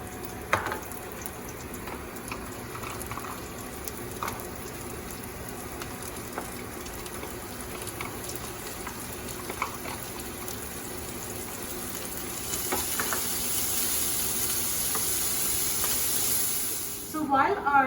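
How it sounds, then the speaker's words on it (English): Onions, mushrooms and spinach frying in oil in a pan give a steady close sizzling hiss that grows a little louder toward the end, with a few faint clinks. "we are going to add my onions, mushrooms, and spinach and cook it for about 2 to 3 minutes"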